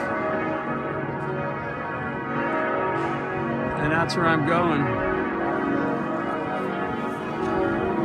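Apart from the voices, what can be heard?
church bells ringing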